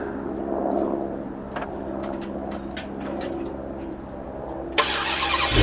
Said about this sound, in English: So let's see how long it takes for this car to actually start.